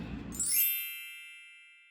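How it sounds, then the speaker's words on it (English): A single bell strikes once, a bright metallic ding that rings out and fades slowly over more than a second, after a brief low murmur of background sound. "There's a bell."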